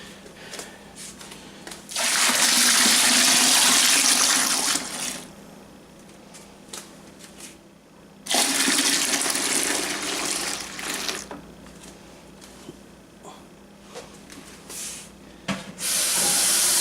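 Water pours into a 5-gallon plastic brewing bucket in two long bursts of loud rushing hiss, each lasting several seconds, with quieter pauses between them and a brief splash near the end.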